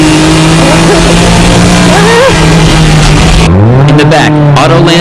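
GT-R race cars, Kobayashi's MCR GT-R and Orito's Mines GT-R, battle for the lead in a circuit race, engines loud and revving throughout. Commentary talk runs over the engines, and the pitch drops then climbs again near the end.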